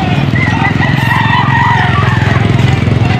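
Roosters crow loudly at a busy Sunday gamecock market in Pampanga, several calls overlapping with constant clucking and a dense crowd murmur throughout.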